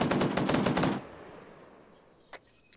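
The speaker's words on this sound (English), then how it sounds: "we're definitely getting shot at" Rapid automatic gunfire in a military video game, a loud, evenly spaced burst lasting about a second, then fading into quiet background with one faint later report.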